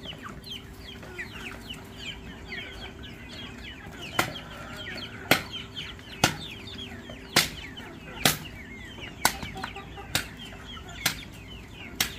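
A flock of farm chickens clucks and murmurs continuously, close by. Sharp, loud thumps break in about once a second through the second half.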